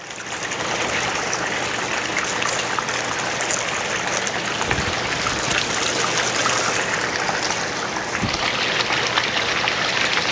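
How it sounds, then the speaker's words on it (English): A hot tub's high-speed jet pump churns and circulates the water, making a steady, full rushing and bubbling wash that holds at an even loudness throughout, with no voices. "So activate the high-speed jet pump"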